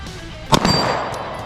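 A single sharp pistol shot from a Staccato HD cracks close and loud, followed by a ringing metallic ping from a swinging steel target and a fading echo.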